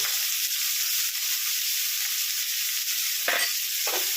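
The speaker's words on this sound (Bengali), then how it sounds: "এবার আমি এর মধ্যে পেঁয়াজগুলো ছেড়ে দিচ্ছি" Chopped onions dropped into hot oil already crackling with black cumin, a steady close sizzle with a brief louder hiss and stir near the end, no voices.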